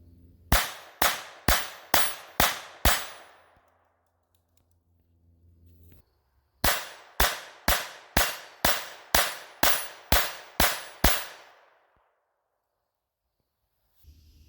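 CCI Velocitor .22 LR rounds fired from a rifle magazine: two rapid strings of sharp, loud cracks, six shots then eight, at an even pace. A short pause separates the strings and each report rings out briefly.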